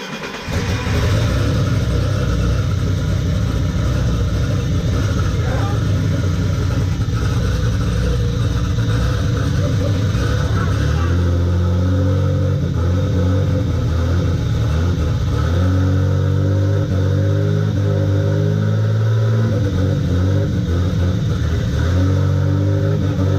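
A BMW M20B25 inline-six converted to turbo and run without an airflow meter cranks and fires up, then settles into a loud, steady, rough idle with occasional revs, heard close with no talking.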